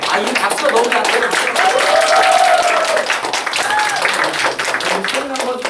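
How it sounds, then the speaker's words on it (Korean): Clapping from a church congregation during a flower bouquet presentation at a Sunday service in Auckland, steady and close, mixed with overlapping voices and chatter throughout. "이 박수가 너무 잘 돼요."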